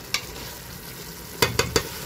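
Food frying in a pot for traditional Moroccan badaz with dried salted meat (gueddid) is stirred with a few quick scraping strokes. One stroke comes early and three land close together near the end, over a low steady sizzle.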